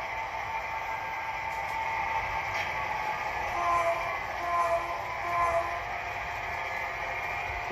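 An HO scale model train runs along a home layout, giving a steady mechanical rolling hum with faint tonal whine and rhythmic swells as the cars pass, continuous and fairly close.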